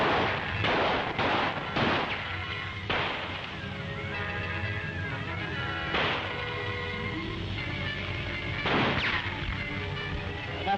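Gunfire from rifles or guns in a wartime battle scene, several sharp reports spaced irregularly, some in quick pairs, loud and echoing over a rumbling background.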